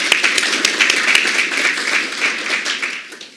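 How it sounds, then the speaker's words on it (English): An audience at a university authors forum gives a round of applause: a dense, lively burst of many hands clapping close by, holding strong, then tapering off toward the end. "Can we give him a round of applause, please?"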